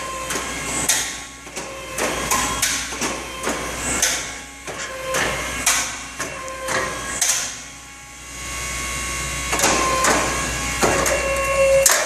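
A Howick steel framing machine feeds and punches a nog, giving a loud, irregular series of sharp metallic clanks and thumps over a steady mechanical hum, ending with the cut.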